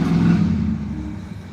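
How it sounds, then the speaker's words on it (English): A loud car passes close by, its engine roar strong at first and then fading steadily as it moves away over about a second and a half. "Oh wow, dude, you got a loud car."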